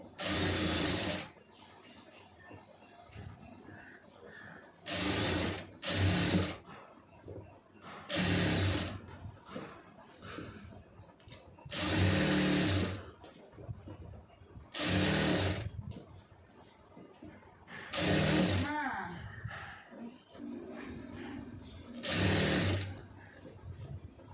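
A sewing machine stitching fabric for a pencil-fit garment runs in several short bursts of rapid whirring, separated by pauses with faint handling noise and no speech.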